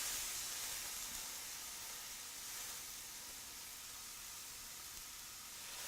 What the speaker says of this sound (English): We'll go ahead and place them in the pan and we're going to cook them on the first side for about 2 to 3 minutes.